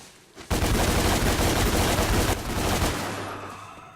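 Rapid gunfire from the guns in Devil May Cry 3, a dense, loud burst of repeated shots lasting a couple of seconds, then a second shorter volley that trails off into a fading rumble.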